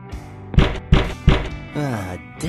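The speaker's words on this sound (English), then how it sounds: "Hope this banging on my door thing doesn't become a habit" Three heavy thuds of someone banging on an apartment door in the point-and-click game Randal's Monday land in quick succession, followed by someone talking.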